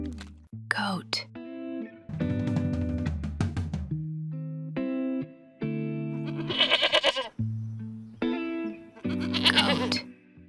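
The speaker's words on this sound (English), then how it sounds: "Goat." A goat gives a string of close, nasal bleats, some short and some drawn out with a quavering edge, spaced by brief pauses.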